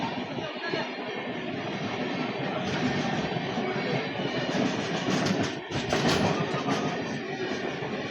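Express train from Yesvantpur Junction to Vasco da Gama running on rails, continuous loud rumble with rhythmic clickety-clack of wheels over rail joints, heard from inside a carriage with faint voices underneath.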